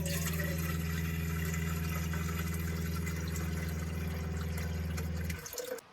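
A van's electric water pump draws from the main tank to fill a coffee pot, giving a steady humming drone over running water until it cuts off abruptly near the end.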